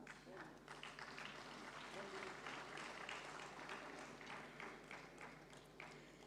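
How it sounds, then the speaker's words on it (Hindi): Steady applause from a conference audience honouring award recipients at a national gathering of rural cooperative banks, dense sustained clapping filling the room with no pause throughout. "सभी अवॉर्डीज के लिए जोरदार तालियों का साथ होना चाहिए."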